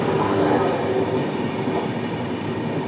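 Kerala Express running at high speed, a loud, steady rumble of wheels and carriages with faint clickety-clack and a brief high whine, continuous throughout with no talking.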